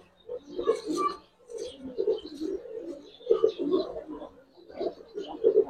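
Giribaz pigeons at a pigeon farm coo nearby in repeated soft, throaty bursts with short pauses between them.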